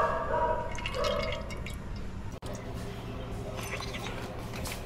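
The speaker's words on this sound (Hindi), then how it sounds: "अभी मैं इसके अंदर तेल डाल रही हूँ कचौड़ियाँ तलने के लिए" Cooking oil poured into a pan for frying kachoris, a soft steady liquid stream and dripping heard close, with someone talking over it.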